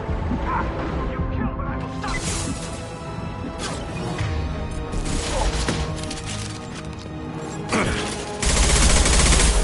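Enemy gunfire in the Mass Effect 2 video game, dense bursts of shots with impacts over busy music and effects, growing louder and heavier near the end.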